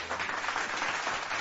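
Applause sound effect: a short, steady burst of dense crowd clapping at even loudness, with no voices over it.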